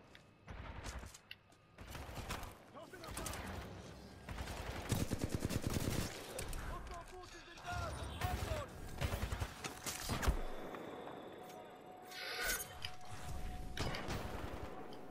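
Hemlok assault rifle fire in Titanfall 2 comes in rapid bursts and short volleys, loud and punchy, with mechanical clanks and gameplay noise between the shots.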